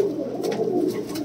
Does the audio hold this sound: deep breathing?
no